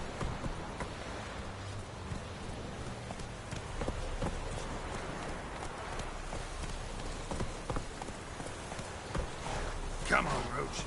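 Roach, a horse in the video game The Witcher 3, gallops in a steady, continuous drumming of hooves across the whole stretch, with a faint voice mixed in.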